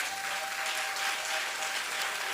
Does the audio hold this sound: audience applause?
yes